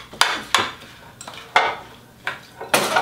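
Cauliflower tabouli being tossed by hand in a bowl, with five sharp clinks and scrapes of utensil against the bowl spaced irregularly, close and fairly loud, with no talking.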